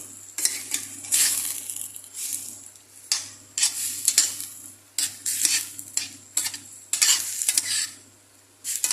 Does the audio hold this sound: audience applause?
no